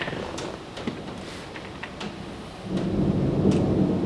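Pouring rain hisses steadily outdoors while a low rumble of thunder swells and grows louder over the last seconds.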